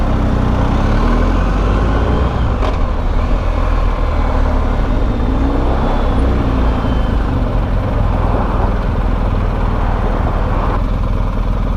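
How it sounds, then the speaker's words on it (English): Steady, loud road traffic around a BMW R1250GS motorcycle near Laguna Beach: a continuous blend of engine rumble, idling vehicles and tire noise, with no clear voices. "I don't really want to sit in this traffic."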